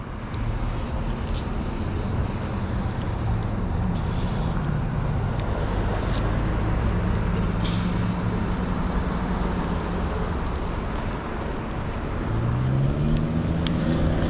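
On a night ride on a used Rad 500W e-bike along a road, traffic rumbles past under constant wind buffeting, with engine drones rising and falling as vehicles go by, including one near the end.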